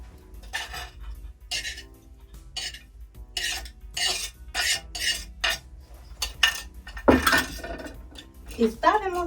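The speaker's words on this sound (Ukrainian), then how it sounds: "І лиємо трішечки олії. А далі кидаємо цибулю подрібнену." Chopped onion tipped into a little hot oil in a pan while braising beetroot with pork ribs, giving a burst of sizzling and crackling near the end, after a run of clinking pots, utensils and kitchen handling.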